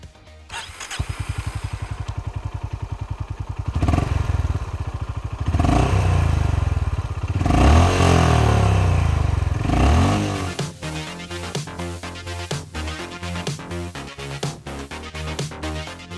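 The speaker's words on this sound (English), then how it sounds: "let's listen to his exhaust note." A 2020 Honda Hness CB350 motorcycle starts up, then idles with a thumping exhaust beat, revs up several times in loud surges, and settles back to a rhythmic idle, close by and with no talking.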